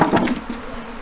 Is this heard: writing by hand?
no